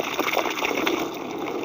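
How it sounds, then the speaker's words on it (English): Birds bathing in a water dish in hot, breezy weather make quick, close splashes and flutters in the water, busy and uneven over the short stretch. "I am very happy to see these birds drinking water and taking bath."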